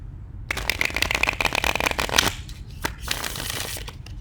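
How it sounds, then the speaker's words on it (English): Tarot cards shuffled by hand in rapid riffling bursts, a dense crackling flutter that runs about two seconds, pauses briefly, then resumes more sparsely with a few sharp snaps; close and fairly loud with no talking. "We'll be doing a small pre-shuffle for you, and then we'll pull 3 cards and go deeper into your reading."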